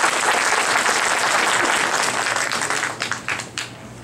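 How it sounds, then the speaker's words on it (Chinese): An indoor audience applauds to welcome a local institute director to the podium at the start of an event, a dense steady burst of clapping that thins into scattered claps at the end. "掌声鼓励一下。"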